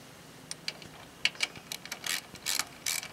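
Starter motor bolts being tightened on a Briggs and Stratton single-cylinder engine with an aluminum block, giving a series of short, close ratchet clicks in quick irregular bursts, with no talking.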